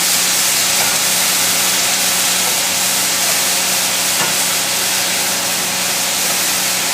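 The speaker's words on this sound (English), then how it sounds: "now we're going to throw in 1 medium yellow onion. Then you want to stir fry it until you get caramelized" One medium yellow onion stir-fries in a hot pan, a loud, steady, close sizzle and hiss that continues unbroken throughout, with no talk.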